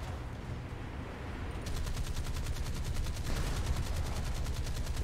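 Naval guns fire in the War Thunder naval beta, a rapid, evenly spaced stream of shots that starts partway through and continues steadily over a low engine-like rumble, fairly loud and alone without talk.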